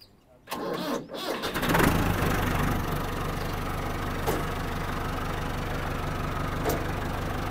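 Massey tractor engine cranking and catching after a brief quiet moment, then settling into a steady, loud diesel idle with a rough, knocking throb and a couple of faint clanks, nearby.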